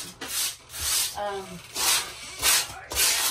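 Sandpaper rubbed over a drywall surface in several separate strokes, close and fairly loud, each a short rough swish with brief pauses between.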